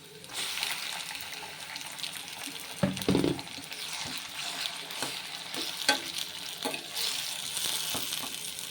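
Tomatoes tipped into hot oil already holding fried mustard seeds, cumin and onion make a loud burst of sizzling and stirring, followed by a steady crackle with scattered spoon scrapes and taps nearby.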